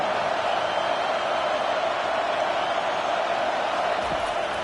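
Dense, steady roar of a stadium crowd in a college football video game, Michigan State visiting Michigan, a continuous wash of cheering noise holding level throughout with no clear voices standing out.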